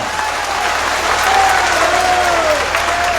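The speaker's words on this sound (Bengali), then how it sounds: "একবার হাততালি হয়ে যাক জুডিশিয়ারির জন্য" Sustained crowd applause and cheering at an outdoor political rally in West Bengal, a dense, steady roar of many clapping hands with a faint whistle-like tone running through it.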